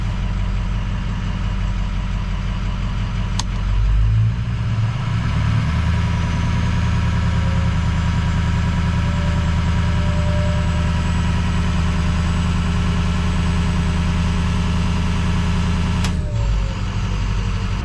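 A Ford 6.0 Powerstroke diesel truck engine runs at high idle, a loud, steady, close droning rumble held throughout, with a couple of brief sharp ticks.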